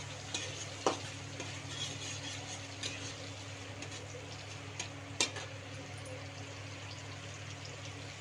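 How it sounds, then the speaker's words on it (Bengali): Chopped onions fry in leftover fish-frying oil in a kadai for a Bengali dish, giving a soft, steady sizzle with a couple of sharp clinks from stirring. "তো আমি পেঁয়াজ দিয়ে দিয়েছি,"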